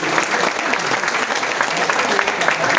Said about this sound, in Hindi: जोरदार ताली हमारे काम में